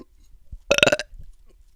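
A single drawn-out, accentuated burp from a man, loud and close, about a third of a second long with a vowel-like open quality, standing alone in a quiet room.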